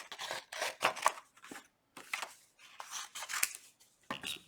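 Scissors snip through a piece of cardstock in a series of close, crisp cuts with short pauses between them, heard alone without talk.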